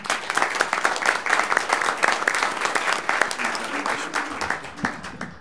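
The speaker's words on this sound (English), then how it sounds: "I think we ought to give them an applause." Audience applause at a board of directors meeting, steady dense clapping from a room full of people lasting several seconds, with some voices mixed in.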